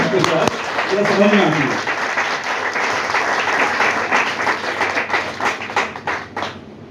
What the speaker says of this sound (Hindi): ताली बजा दो, अच्छा लगता है